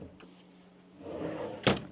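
A kitchen drawer in a 2003 National Islander motorhome on a Country Coach chassis slides open with one sharp clunk near the end, after quiet rustling and a faint earlier tap inside the coach.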